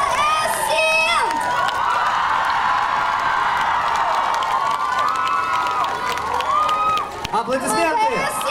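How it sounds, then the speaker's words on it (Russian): Audience at a K-pop cover dance award ceremony in Busan cheers and applauds loudly after a third-place announcement, a dense crowd roar with shouts and whoops throughout, while a presenter's voice carries over the noise. "Аплодисменты!"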